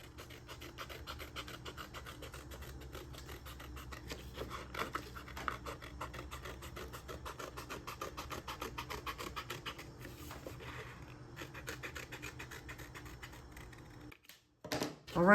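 Paper egg pieces, traced out for a paper Easter egg, being cut out close by. A steady, fine scratching and rasping runs for about fourteen seconds, then stops, followed by a few soft handling taps.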